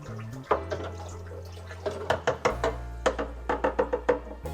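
Water holding growing nutrients is stirred in a Tower Garden reservoir, with a series of close, distinct sloshing and knocking splashes that come in quick irregular bursts over a low steady hum.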